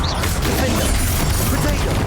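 A Confringo blasting spell from Hogwarts Legacy bursts in a dense, loud rumble that fills the whole clip, with crashing and rattling debris layered over it.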